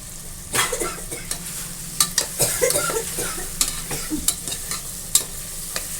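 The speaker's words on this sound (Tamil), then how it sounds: "சிக்கனை போட்டு நல்லா கலரி விட்டுக்கலாம்." Chicken tossed into a pan of fried onion and tomato sizzles steadily while a spoon stirs and scrapes. The clinks and scrapes are irregular, close and clear over a constant frying hiss, with no voices.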